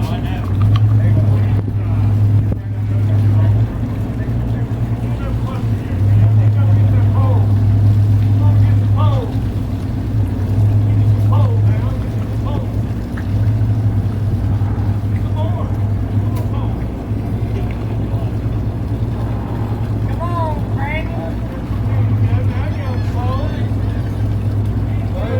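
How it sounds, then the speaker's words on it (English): A twin-engine boat powers in against a spring line while docking: a steady, loud engine hum and drone with rhythmic surges throughout, close by, while people talk intermittently over it. "he's using a spring line to power the boat in with twin engines"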